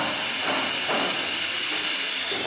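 Refrigerant gas hisses steadily into an HVAC system as it is pressurized, a loud, continuous rushing hiss that stays close and unbroken throughout.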